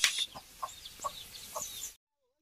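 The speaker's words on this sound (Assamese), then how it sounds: "এইফালে মুৰ্গী সোমাই আহি আছে ঘৰত" A chicken walking into a house clucks in a short series of four or five soft, evenly spaced clucks, fairly close, before the sound cuts off abruptly.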